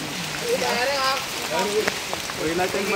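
Heavy rain pours steadily during a night camping trek, with rainwater running across the ground, forming a dense hiss while a person talks over it.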